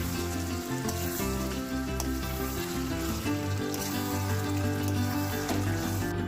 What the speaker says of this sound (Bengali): মাংসটাকে আর একবার ভালো করে নেড়ে চেড়ে দিচ্ছি